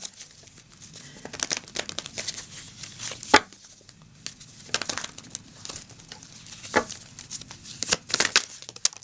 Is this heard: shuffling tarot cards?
yes